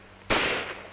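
A single carbine rifle shot from a 1943 wartime weapons demonstration: one loud, sharp report that breaks out of quiet and rings off in a long, slowly fading tail.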